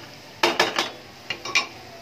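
A metal utensil clinks and scrapes against a pan while ingredients are sautéed for a galunggong fish dish, with two quick bursts of sharp, close taps and no talking.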